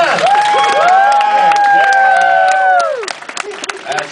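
Audience at a Dragon*Con 2011 Ghost in the Shell panel gives scattered claps mixed with cheering and voices, fairly loud and steady, then thinning out after about three seconds.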